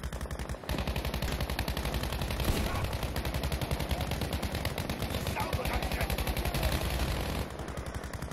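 Sustained rapid machine-gun fire from a vehicle gunner in Battlefield V, loud and close, running nearly unbroken for several seconds with dense repeated bursts.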